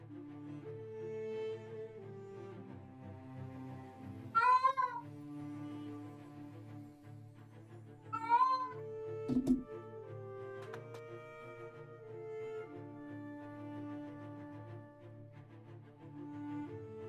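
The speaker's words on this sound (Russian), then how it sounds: "если во время игры вы услышите звонкий голос кота" A domestic cat meows loudly twice, a few seconds apart, over continuous orchestral background music from the strategy game Humankind.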